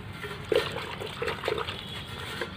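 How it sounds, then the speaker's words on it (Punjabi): Two rope ends are dipped and wetted in water while a cot is woven: a few soft splashes and sloshes over a low steady background, the strongest near the start. "ਇਹਨਾਂ ਨੂੰ ਆਪਾਂ ਗਿੱਲਾ ਕਰ ਲੈਣਾ ਪਾਣੀ 'ਚ"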